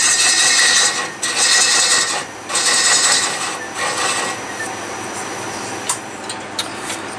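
A tool rasps against the spinning rim of an apple wood bowl on a lathe, with steady scraping broken by several louder surges, close and loud.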